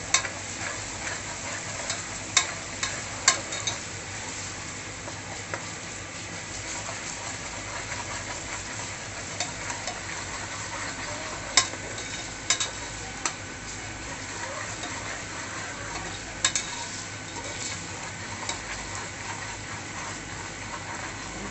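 Mutton frying in a pan while being stirred, a steady close sizzle with intermittent sharp clicks and scrapes of a utensil against the pan.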